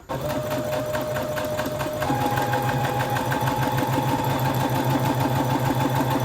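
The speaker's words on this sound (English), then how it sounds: "step 1 is to sew in the darts" Sewing machine stitching skirt darts runs fast and steady at close range, a continuous whirring hum with rapid needle chatter that rises slightly in pitch partway through, with no talking.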